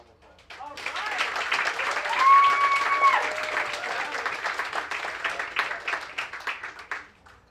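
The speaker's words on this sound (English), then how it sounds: "Let's give Erica a round of applause" An audience at a youth leadership breakfast breaks into applause, a dense, fairly loud burst of clapping that swells quickly and then tapers off over several seconds.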